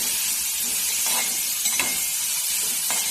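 Onion, carrot, green chilli and curry leaves being stirred in a pan for potato bonda filling, a close, constant sizzle broken by a few soft scrapes of the spoon.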